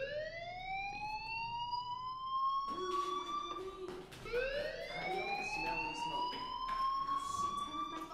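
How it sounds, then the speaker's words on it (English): Rising, wailing siren-like school fire alarm in the Life Is Strange game, sweeping upward twice with harmonics, faint and steady over background ambience. "do you hear that fire alarm? That means you should be outside."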